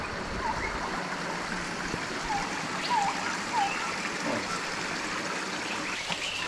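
A waterfall pours straight down onto a beach at an anchorage, a steady broad wash of falling water with a few faint bird calls over it.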